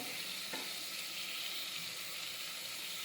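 Cumin, turmeric and salt sizzle steadily in hot oil for a Gujarati potato curry, a continuous close frying hiss with no talk.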